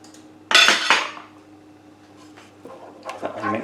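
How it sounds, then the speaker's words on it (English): Mustard being stirred into a fish pie sauce in a pan, a spoon scraping and clinking against the pan in a loud burst, then a quieter pause and more clattering stirring. "Just going to add our mustard. Just going to stir that in."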